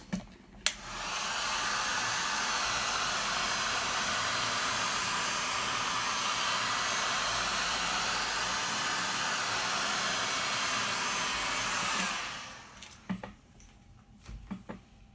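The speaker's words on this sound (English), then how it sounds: "I will use my heat gun because it will create some more cells." A heat gun blows hot air over an acrylic pour painting, a steady loud rushing hiss that runs unbroken for about eleven seconds and then cuts off, leaving faint handling sounds.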